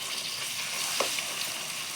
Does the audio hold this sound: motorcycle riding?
no